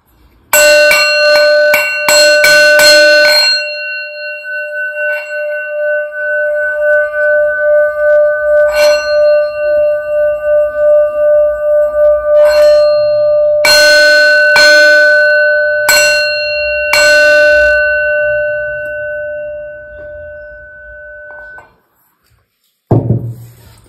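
Bell rings out in a run of rapid struck strokes, then rings again after a pause with a long sustained tone, later a few more strikes, loud and alone with no talking.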